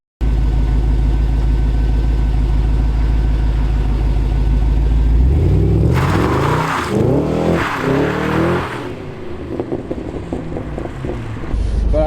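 A 2006 Pontiac GTO engine idles with a steady low rumble, then revs hard in a couple of loud surging bursts before settling back toward idle, close and without talk.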